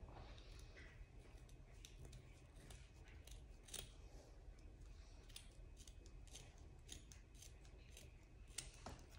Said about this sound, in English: I'm gonna cut this piece right here because I don't need it.